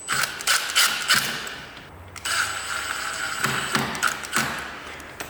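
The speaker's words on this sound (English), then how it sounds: "Put these screws back in." Screws are driven back into the cover plate of a loose sliding glass patio door handle, producing repeated close ratcheting clicks and small mechanical taps in short bursts, with no talking.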